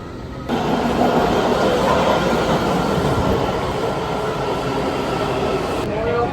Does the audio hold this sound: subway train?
yes